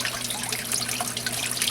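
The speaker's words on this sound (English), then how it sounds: "We'll get the water flow turned down quite a bit right now." Water flows and trickles through a fine gold recovery bowl, its flow turned down, a steady hissing splash with a faint low hum of a pump beneath, even throughout.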